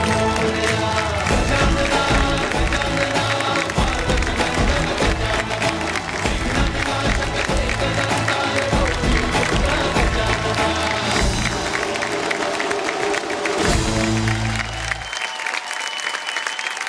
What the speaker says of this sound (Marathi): बाकी सगळे जे जमले सगळे टाळ्या वाजवा ना